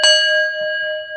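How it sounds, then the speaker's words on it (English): A bell is struck once and rings out loudly, its bright tone holding and slowly fading, with no voices. "Let's ring the bell."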